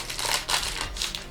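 A crinkly snack-style bag containing a Transformers Legacy Velocitron toy is torn open by hand at close range, with bursts of sharp crackling and crumpling plastic noise in uneven rhythm.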